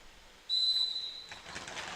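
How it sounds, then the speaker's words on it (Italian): A referee's whistle at a table football match gives a short, sharp, shrill blast of about half a second, followed by fainter rustling room noise. "fischio dell'arbitro"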